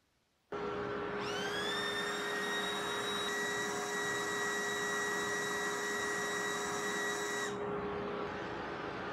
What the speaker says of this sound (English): I will shut the blast gate for the mini dust collector and test just the main dust collector first